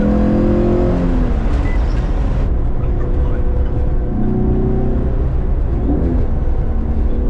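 An AE86 converted to electric power drives with a steady, loud motor and road drone throughout, rising and falling in pitch as it revs during rev matching.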